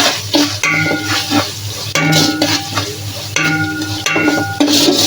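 Spices with coriander powder are sautéed in a pan for beef biryani, with spoon stirring and scraping over a steady sizzle, loud and close, with no voices.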